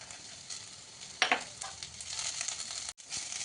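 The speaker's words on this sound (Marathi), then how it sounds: "आता आपण ह्याच्यामध्ये कॉर्न टाकूयात." Corn kernels dropped into a pan of fried onion sizzle steadily, with a sharper burst of crackling as they hit the oil, then a continuous close frying hiss with no talking.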